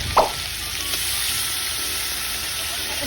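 Duck pieces fry in hot oil as soy sauce is added, giving a steady, close sizzle. A brief splash and crackle come right at the start.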